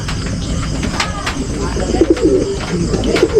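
Pigeons coo close by in short rolling phrases, the calls rising toward the end over a steady background hum.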